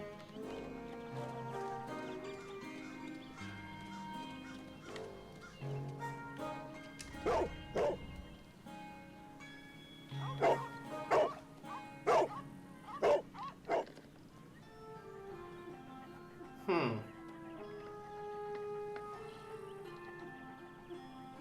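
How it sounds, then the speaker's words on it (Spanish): A cartoonish dog in Sherlock Holmes: The Devil's Daughter barks several times in a row, sharp and fairly close, over a layer of game music and ambience. "La animación del perro es un poco especialita ya sola."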